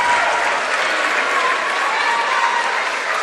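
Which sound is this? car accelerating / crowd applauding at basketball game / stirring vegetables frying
crowd applauding at basketball game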